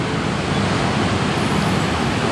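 Heavy afternoon road traffic on a busy street, a loud, dense, continuous roar of many cars, buses and trucks passing close by, with no talk.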